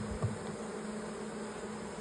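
A faint, even drone of bees hovers around a hive, with a brief nearer buzz early on before settling into a soft, continuous hum.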